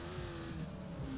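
An ATV in ATV Offroad Fury 4 slides sideways into a turn, a steady engine drone with a faint tire scrub, quiet and brief, with no talk.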